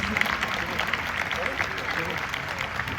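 A crowd at a charity football match in a stadium in Amiens applauds a singer, scattered clapping rolling on under a speaking voice, moderately loud and fairly steady.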